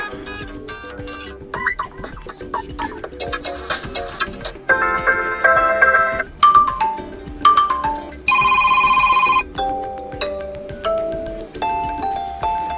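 A series of different Motorola Edge phone ringtones plays back to back, each a short melodic chime or beeping tune, clear and close, with no voices.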